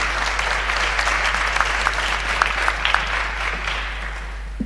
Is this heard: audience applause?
yes